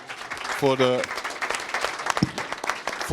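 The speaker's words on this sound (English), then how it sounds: "Big applause for the" Audience applause for a panel at a Davos event, a burst of clapping mixed with a speaking voice and shouts, fairly loud and uneven over a few seconds.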